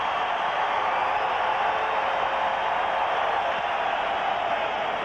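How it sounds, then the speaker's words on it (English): Steady roar of a large hockey arena crowd in Detroit during a 1993 playoff game against the Toronto Maple Leafs, a dense, continuous wash of cheering voices that holds level throughout. "Listen to the crowd."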